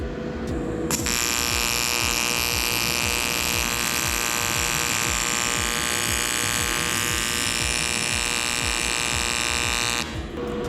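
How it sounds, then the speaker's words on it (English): Steady electric welding buzz as metal extensions are tack welded together on a wooden bench, a continuous loud crackling hum lasting about nine seconds with no pauses. "I'm just basically putting a teeny bit of weld on it just to hold them together"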